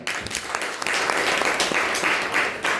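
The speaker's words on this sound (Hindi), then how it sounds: "एक बार बजाओ ताली" A crowd applauds steadily, with dense clapping filling the whole stretch at an even, fairly loud level.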